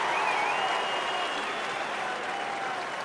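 A crowd at a 2009 AFL match between Sydney and Essendon reacts with a sustained roar and jeering, broad and distant, holding steady before easing slightly.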